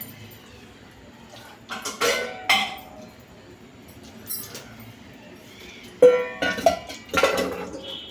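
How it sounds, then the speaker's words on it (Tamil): Metal cooking pots and utensils clank and scrape in irregular bursts in a home kitchen, close by, with quieter handling noises in between. "வேறு பாத்திரம் எடுத்துக்கிறேன்"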